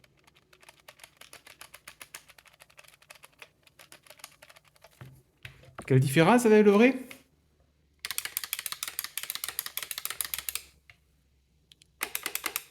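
Switches of a genuine Competition Pro joystick clicking in rapid bursts, compared with a C64 Mini imitation joystick, the sharp clicks coming in dense runs with a short spoken question between them.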